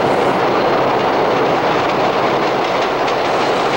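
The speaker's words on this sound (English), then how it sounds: "Below the clattering of the L train, in a piece of the South Bronx fighting to stay alive" An elevated L train clatters past overhead in the South Bronx, a loud, sustained rumble of wheels and cars rolling along the tracks without pause.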